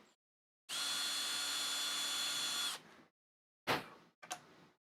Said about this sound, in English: we're using a reamer because the reamer ensures that we get a perfectly round hole.